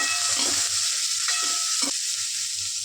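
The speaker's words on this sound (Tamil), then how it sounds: "வெங்காயம் பெரிய பெரிய வெங்காயம் நைஸாக அரிஞ்சிருக்கிறேங்க மிளகா ரெண்டு பச்சை மிளகா கருவேப்பில் நல்லா வதக்கணும்" Finely sliced large onions with two green chillies and curry leaves sautéing in a pan, a constant bright sizzle with a few spatula scrapes and knocks underneath, no voices.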